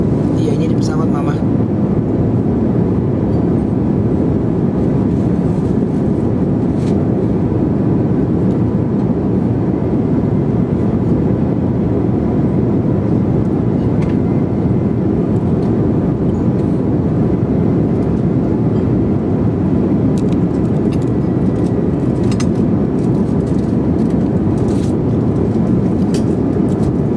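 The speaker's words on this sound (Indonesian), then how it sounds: "Iya ini di pesawat mama." Steady, loud engine roar inside a passenger airplane cabin during flight, a dense low drone that never lets up, with people talking over it.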